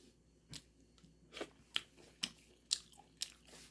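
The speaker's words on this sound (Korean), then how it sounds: "떠서 먹어보겠습니다" Crisp bites and crunchy chewing of a Korean side dish, close to the microphone, about half a dozen sharp crunches spaced irregularly over a quiet background.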